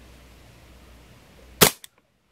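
A single sharp, snappy shot from an Umarex Beretta M9A3 4.5 mm CO2 blowback BB pistol cracks out close by after a quiet hum, followed by a brief metallic click and then silence.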